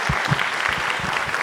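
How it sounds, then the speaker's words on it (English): An audience in a theater playhouse breaks into a brief burst of dense applause for an event sponsor, a steady close wash of many clapping hands. "So let's give her a round of applause."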